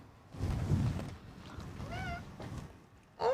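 A pet cat meows near a desk, a clear rising-and-falling cry in the middle and another sharp meow at the end, with soft handling noises and room rustle throughout.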